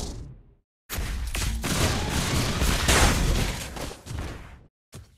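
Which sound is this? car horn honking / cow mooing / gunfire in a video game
gunfire in a video game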